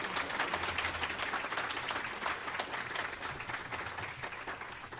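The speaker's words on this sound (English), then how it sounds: "let's just give our panel a round of applause for all the great work they've done" An audience applauds a discussion panel, a dense, steady round of clapping that fills the room and fades slightly toward the end, with no voices over it.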